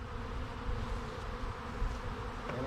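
Honey bees buzz steadily in a scoop during a varroa mite alcohol wash test, a close, continuous droning hum from a colony of about 300 bees with small fluctuations in intensity.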